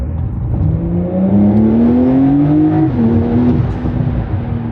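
A Porsche 911 GTS engine revs up under near full throttle in a short burst, its pitch climbing steadily before a brief drop as it shifts, loud and close throughout.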